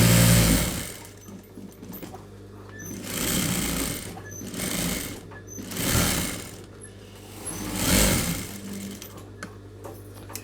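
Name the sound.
sewing machine stitching blouse patch and lining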